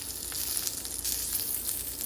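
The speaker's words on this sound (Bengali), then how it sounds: "পটল ভাজা হচ্ছে" Pointed gourd (potol) slices with skin frying in a thin coat of oil in a frying pan, a steady close sizzle with light crackling throughout.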